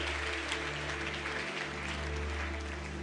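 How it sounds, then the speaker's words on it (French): A church congregation applauds during a service, a steady wash of clapping that stays level and sustained for about three seconds over a low constant hum, with no talk. "Est-ce qu'on peut rentrer à nos places sous nos acclamations?"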